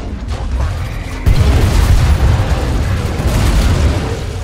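A grenade goes off in the shooter game Killing Floor 2: a sudden loud boom hits about a second in, followed by a sustained rumbling blast and continued chaotic combat noise.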